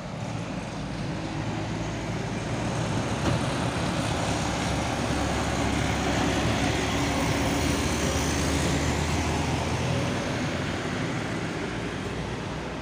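Heavy traffic on a Sumatran road, with heavy trucks such as a Nissan Diesel Victor tronton truck rumbling past in a continuous loud low drone that stays steady throughout, with no voices.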